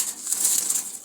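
A released Jalali pigeon flapping its wings, a brief burst of close, papery wingbeats lasting about a second.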